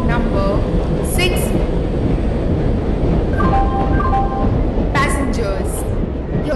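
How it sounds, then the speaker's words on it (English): A passenger express train pulls into a station platform in the Indian Train Simulator game, with a loud continuous rolling rumble and several brief high metallic squeals toward the end. "Train number 1, 2, 6, 5, 5 passenger express is arriving at platform"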